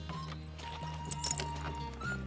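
A horse in a French-dubbed western film clip-clops in an uneven rhythm. The hoofbeats sit under a sustained music score and are moderately close.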